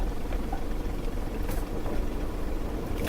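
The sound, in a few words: 2000 Nissan Xterra engine idling with loud exhaust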